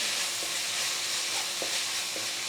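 Chopped large tomato sautéing in a pan for a tender jackfruit masala, a steady loud sizzle throughout with a few soft stirring clicks of a spoon against the pan.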